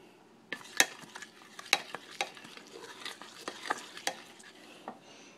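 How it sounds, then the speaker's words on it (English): Chopped onions tumble into a pot and get stirred, producing a series of scraping, clattering spoon strikes with a soft sizzle underneath, close and irregular, with no talking. "I'm going to go ahead and throw the onions in there and then kind of mix them around"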